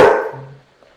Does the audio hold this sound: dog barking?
yes